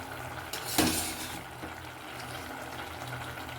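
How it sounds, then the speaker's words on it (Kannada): Cooked pasta tipped into a hot tempering in a pan gives a sudden loud splash-sizzle, then a softer steady frying hiss with light scraping. "ಇವಾಗ ನಾನು ಆ ಒಗ್ಗರಣೆಗೆ ಸೇರಿಸ್ಕೊಳ್ತೀನಿ"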